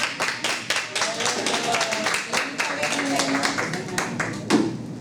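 Children clapping their hands at a storytelling theatre show, a steady stream of quick, close claps running throughout, with an adult voice talking over them.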